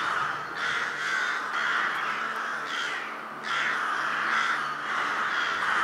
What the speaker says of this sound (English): However, the crows were pleased by all this.